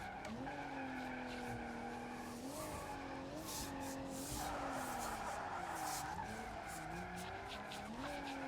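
In the BeamNG driving game, an average compact car drifts sideways with continuous loud tire squeal over a steady engine drone, the pitch wavering as the slide shifts.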